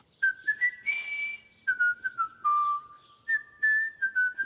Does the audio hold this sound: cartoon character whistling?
yes